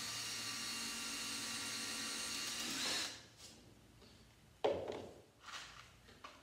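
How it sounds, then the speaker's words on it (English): A small 1-inch screw driven with a power drill into the wooden frame of a Freedom 17 canoe under construction; a steady whirring drive for about three seconds, then fainter intermittent bursts as the screw seats. "let's get just a little screw down in there"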